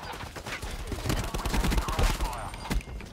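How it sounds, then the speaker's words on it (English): Bursts of assault rifle fire from behind in Call of Duty Black Ops 4, rapid overlapping shots under someone talking. "Who's shooting me from behind?"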